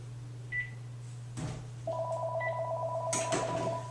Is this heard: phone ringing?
yes